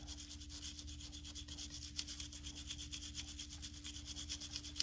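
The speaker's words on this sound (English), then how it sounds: "Now I'm going to scrub the face where you loaded in at." A brush scrubs the face of a Smith & Wesson Model 10-7 revolver cylinder in quick, rapid back-and-forth strokes, a close, faint rubbing rasp over a constant low hum.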